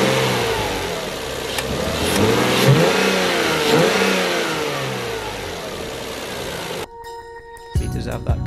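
Engine of a Lexus IS200 sedan, just serviced with a new timing belt and water pump, revs up and falls back with a whooshy intake note, close and steady, before cutting off near the end.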